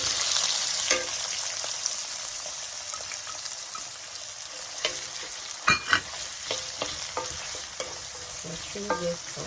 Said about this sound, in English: So saute it so it becomes translucent.